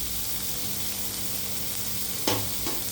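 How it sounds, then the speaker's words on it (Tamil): Coconut pieces sautéing in a pan for chutney, a loud continuous close sizzle with a couple of sharp scrapes or stirs near the end. "அந்த தேங்காயும் போட்டுக்கணும். நல்லா வதக்கணும்."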